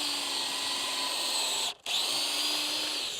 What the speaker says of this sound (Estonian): trelliga on võimalik teostada kiire kontrollpuurimine